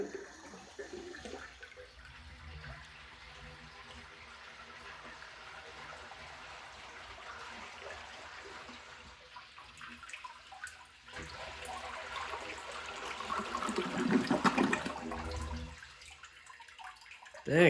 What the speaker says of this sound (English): let's give this a flush.